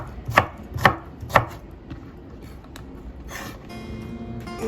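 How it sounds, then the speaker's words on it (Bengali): Three crisp knife chops through cucumber on a cutting board while beef biryani is being prepared, spaced evenly in the first half, then quieter kitchen clatter and background hum. "শসাগুলো কেটে নিচ্ছে।"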